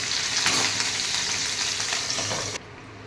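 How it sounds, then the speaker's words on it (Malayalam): Stuffed green chillies frying in a covered pan give a steady, close, loud sizzle with light crackling throughout, which drops off abruptly near the end. "തിരിച്ചും കൂടെ ഇട്ട് നമുക്ക് ഫ്രൈ ചെയ്തെടുക്കണം"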